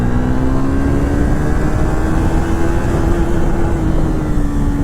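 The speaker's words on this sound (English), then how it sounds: "Third gear, full gas." Triumph Thruxton 400 motorcycle engine pulling hard at full throttle in third gear, a loud, steady drone with a slowly rising pitch that holds throughout with no talk.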